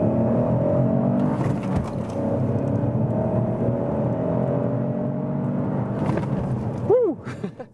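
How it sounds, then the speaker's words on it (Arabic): Opel Astra L small three-cylinder engine while driving, a steady close cabin drone and whir of the engine at cruising revs, briefly swelling and then easing off near the end. "نصل لتجربة القيادة على متن أوبل أسترا إل بمحرك 3 سلندر"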